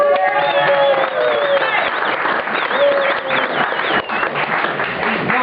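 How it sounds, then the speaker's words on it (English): An audience claps for accordionist Harry Hussey at a cow-bell performance, a busy, continuous round of applause with wavering tonal notes and scattered voices running through it. "Could you give a round of applause to the lovely Harry Hussey?"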